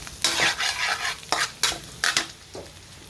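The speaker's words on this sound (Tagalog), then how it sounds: "Gulay tayo, gigisa muna tayo." Vegetables sautéing in butter in a pan, with bursts of sizzling and stirring scrapes that come and go in short waves, close up and with no talking.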